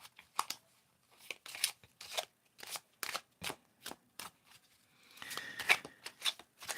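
Playing cards smaller than full-size being riffle shuffled, a series of close, crisp riffling bursts and soft taps in quick succession, some bursts longer and denser than others.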